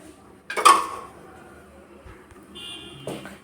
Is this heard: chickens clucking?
no